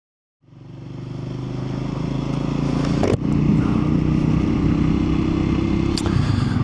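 A Triumph Scrambler 400X motorcycle starts moving and rides on, its engine building to a steady, loud, close drone with road and wind noise and a brief clunk partway through, no voices.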